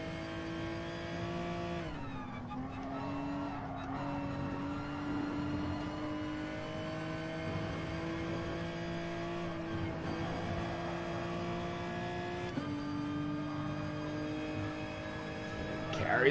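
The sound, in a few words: race car engines in Gran Turismo Sport video game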